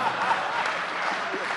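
Audience applause at a Hindi comedy poetry show, a broad wash of crowd clapping held at an even level throughout, with a faint murmur of voices mixed in underneath.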